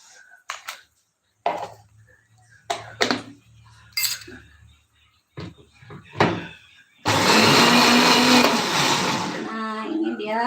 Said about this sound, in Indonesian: Sebentar saya mau ngeblend dulu si sambalnya.